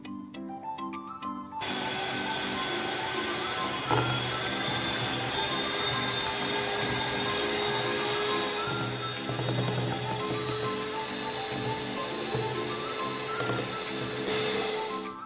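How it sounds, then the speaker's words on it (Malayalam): An electric beater whips two eggs with a cup of powdered sugar in a bowl for a honey cake, a loud steady motor drone that starts abruptly after a short pause and runs continuously up close with no speech. "ഒരു ബൗളിലേക്ക് ഒരു കപ്പ് പൊടിച്ച പഞ്ചസാരയും രണ്ട് മുട്ടയും കൂടെ ചേർത്ത് നന്നായിട്ടൊന്ന് ബീറ്റ് ചെയ്തെടുക്കണം. ബീറ്ററുണ്ടെങ്കിൽ അത് വെച്ച് ബീറ്റ് ചെയ്യാം"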